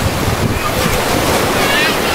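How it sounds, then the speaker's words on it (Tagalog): Steady rushing surf and wind roar continuously, loud and close, with no distinct breaks, at a rainy beach resort in Infanta, Quezon. "Ayan, dagat."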